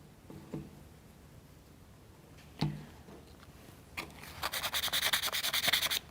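Sandpaper rubbing small plastic parts of a U-9 Grand Prix model car, starting as a few faint scrapes and taps, then building into a quick, steady back-and-forth rasp close up with no talking.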